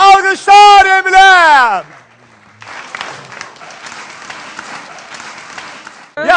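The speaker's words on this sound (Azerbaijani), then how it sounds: "Emil, alqışlar Emilə" An audience in a television studio applauds a contestant named Emil, a broad steady wash of clapping from many hands after a loud announcer's voice, lasting a few seconds before the voice returns.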